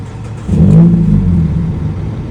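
A Mazda 3 engine cranks and briefly catches with a short rising rev, then sags and fades out as it stalls, loud and close.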